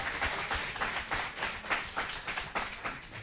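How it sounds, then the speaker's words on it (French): A studio audience at a game show claps steadily for a contestant who has just lost, a dense close round of applause that runs throughout with no voices heard. "Mais voilà, on l'applaudit."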